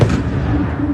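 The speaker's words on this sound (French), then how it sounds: "les premières explosions retentissent dans la nuit ukrainienne" Deep booming explosions rumble in low, heavy bursts at night in Ukraine during the Russian invasion, loud and continuous, with no voices.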